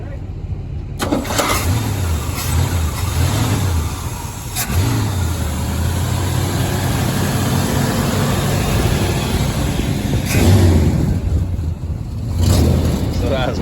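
An old abandoned farm truck engine cranks, catches and revs, then settles into a steady rumbling idle under several bursts of excited talk from people standing close by.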